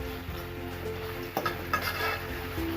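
Mackerel is stirred in a frying pan, with soft scrapes and a few utensil knocks against the pan over a light sizzle, in a short burst without talk.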